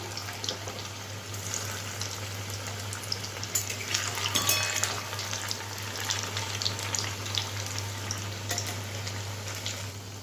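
Potato pakoras frying in oil, a steady moderate crackling sizzle with a low hum underneath and brief clinks near the middle.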